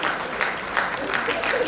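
Dense, steady applause from a crowd at a school's first annual day celebration, filling the short moment at an even level.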